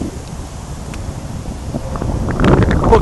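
Gusty wind blows across a fishing lake in autumn, a steady rushing buffet on the microphone that strengthens toward the end.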